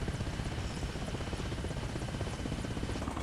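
A helicopter in the video game Arma Reforger flies with a continuous loud rotor chop and engine roar, steady and close throughout with no voices.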